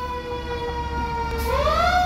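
A fire engine siren during a Santa run wails steadily nearby, one long held tone that rises sharply at the end over a low engine rumble, with no talking.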